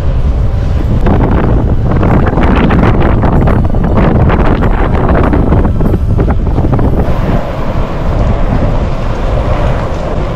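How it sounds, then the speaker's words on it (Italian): Strong wind buffets the microphone while cycling on a road toward the North Cape, producing a loud, continuous rumbling roar that swells and eases slightly, with no talk over it. "Che vento!"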